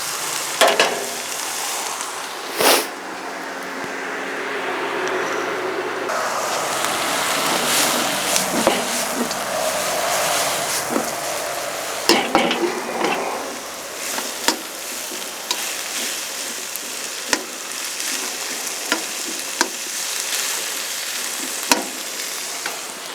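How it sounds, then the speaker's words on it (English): Onions and bell peppers sizzle steadily in a pan over a coal fire, with frequent sharp clacks and scrapes of a utensil stirring them, close and continuous throughout. "All I'm doing is just cooking these onions"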